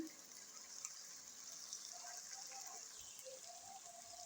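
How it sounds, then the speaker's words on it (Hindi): Water poured into a pot of beef liver masala, a soft, steady gushing trickle that is faint and continuous, heard alone. "अब हम इसमें डालेंगे पानी।"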